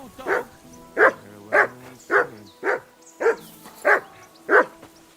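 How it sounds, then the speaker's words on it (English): A dog in Kingdom Come: Deliverance 2 barks eight times at a steady, evenly spaced pace, each bark loud, close and sharp, with a faint hum of game ambience between them and no talk over the barking. "that mutt of yours to stop barking"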